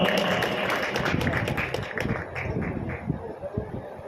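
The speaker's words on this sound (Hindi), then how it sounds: "जोरदार तालियों के साथ स्वागत" A crowd at the inauguration of a park's main gate applauds loudly to welcome guests, giving dense, rapid clapping that gradually thins out, with a voice speaking over it.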